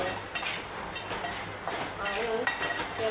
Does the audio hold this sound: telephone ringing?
no